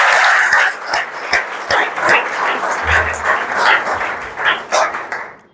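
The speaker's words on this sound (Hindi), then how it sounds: "एक बार और जोरदार तालियों से स्वागत।" A gathering applauds loudly to welcome a young man selected for Indian Army GD, a dense crackle of many hands with sharp claps standing out, fading near the end.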